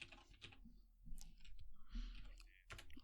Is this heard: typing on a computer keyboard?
yes